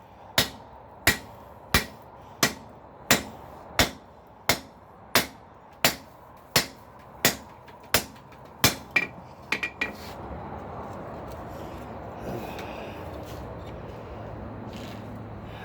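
A hammer strikes a steel rail track clip during forging, giving about a dozen sharp, ringing metallic blows at a steady rhythm roughly every 0.7 seconds, close and loud, then a few quicker taps before falling quiet.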